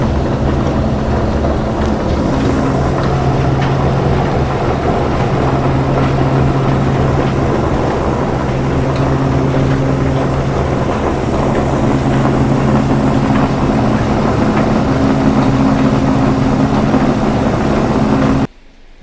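A small atta chakki flour mill with a shaft drive underneath runs in a loud continuous drone, a steady rumbling hum with faint tonal whine throughout, stopping abruptly at the end.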